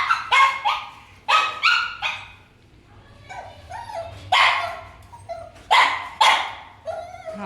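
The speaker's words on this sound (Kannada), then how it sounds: "ಬಾ ಸುಮ್ಮನಿರು ರಾಕಿ, ಬೊಗ್ಳಬಾರ್ದು." A dog barks loudly and close by in quick clusters of two or three sharp barks, separated by short pauses, with no voices.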